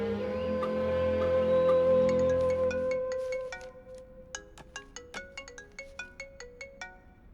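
A telephone ringtone plays as a sustained tonal melody, then shifts into a string of short, bright repeated electronic beeps that pulse at a steady rhythm, close and clear with no talking.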